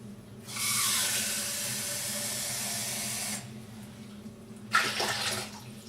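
Tap water runs steadily into a container for a kimchi brine for about three seconds, a broad hissing pour, then stops; a brief second burst of running water follows with a sharp splash or clatter.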